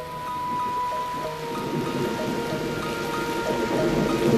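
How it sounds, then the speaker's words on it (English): A rainstorm on the Serengeti, steady rain pouring down with deep rolling thunder rumbling underneath, building louder toward the end, with a faint tonal hum running through. "Often, the blessing of rain can be disastrous."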